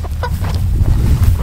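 Chickens cluck softly and continuously, a few close birds murmuring over a low, steady background rumble.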